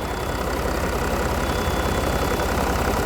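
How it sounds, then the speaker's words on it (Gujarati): A car engine idles steadily with a vacuum gauge fitted on the inlet manifold, a loud even rumble that holds without change for the whole clip. "એન્જિન સરસ ચાલે છે"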